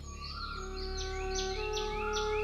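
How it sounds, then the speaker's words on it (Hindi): Birds chirping in a quiet setting among bushes, faint repeated high tweets and trilling calls over a soft musical drone, with no voices. "जहां पक्षियों की गूंज से लोगों की नींदें खुलती हैं।"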